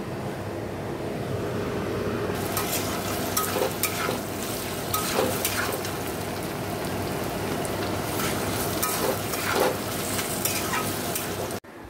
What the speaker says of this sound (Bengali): এখানে একটু আলু কেটে নিয়েছি, আলু ভাজবো।